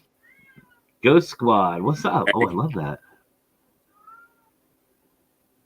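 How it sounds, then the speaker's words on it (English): A cat meows and hollers at a basement window in a loud, close, drawn-out wailing cry that rises and falls over about two seconds, followed by a faint brief call, with a person talking around it. "You hear that cat?"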